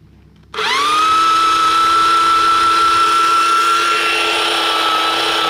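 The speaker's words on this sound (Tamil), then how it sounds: "இப்போ நம்ம ட்ரில்லி மிஷின் ஆன் பண்ணி எப்படி ரன் ஆகுது அப்படிங்கிறத வந்து பார்த்துருவோம்" A drilling machine motor on a brick-lifting crane switches on abruptly and keeps running in a steady, loud, high whine that holds for several seconds with no talk.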